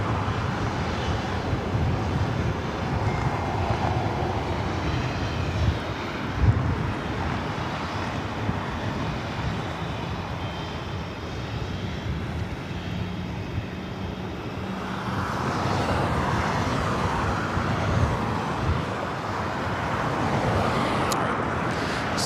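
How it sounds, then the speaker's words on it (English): A Korean Air Airbus A380 rolls along the runway at LAX, heard as a continuous low jet rumble with wind buffeting, swelling louder near the end. "So the Korean Air A380 Super now rolling down to 25 left."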